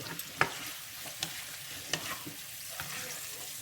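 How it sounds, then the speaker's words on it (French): A carbonara egg mixture with salt and pepper is stirred in a bowl, with faint swishing and a few light taps of the utensil against the side, quiet and close. "Je mélange."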